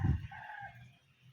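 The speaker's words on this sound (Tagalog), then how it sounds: "Meron pong mga manok-manok dyan." Chickens on a farm lot in Nasugbu, Batangas give a brief, faint, drawn-out crow-like call over a soft low rumble, heard from a distance.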